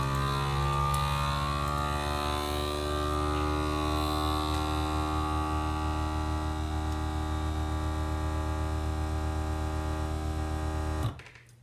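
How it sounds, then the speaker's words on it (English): A vacuum sealer pulls air from a bag of soup, giving a steady, loud motor hum with a droning tone that runs for about eleven seconds before cutting off abruptly, with no talking. "Vacuum sealing the bag."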